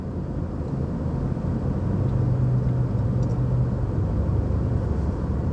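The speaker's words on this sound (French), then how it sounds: "Beaucoup de routes, beaucoup de voitures." Steady traffic on busy roads in Austin, a continuous low rumble of passing cars with no single vehicle standing out, fairly loud and unbroken throughout.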